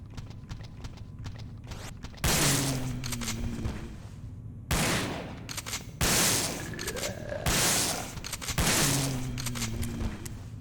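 A shotgun in the PS2 game Resident Evil: Dead Aim blasts at a zombie. About five heavy, booming shots come at uneven intervals. Each one lands hard and rings out in a long, decaying tail over quiet game ambience.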